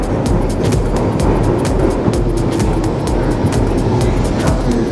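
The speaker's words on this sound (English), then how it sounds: "And within mere seconds, another train has arrived." A London Underground train pulls into a station near Leicester Square, a loud, close, steady rumble with rhythmic clacking of wheels over rail joints and a continuous deep roar throughout.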